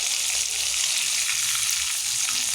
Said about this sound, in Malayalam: അതിനാൽ കുറച്ച് സമയം മാത്രം ഇത് ഫ്രൈ ചെയ്താൽ മതി